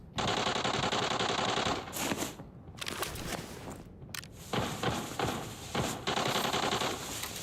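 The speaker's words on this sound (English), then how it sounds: "Gunshots." Rapid bursts of automatic gunfire in the video game Arena Breakout Mobile rattle loudly and continuously, with brief pauses between volleys.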